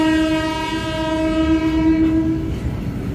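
A new WG-12 electric locomotive hauling a coal-loaded freight train passes close by with a loud, sustained horn blast over steady rumbling wheels on the rails, and the horn fades out near the end.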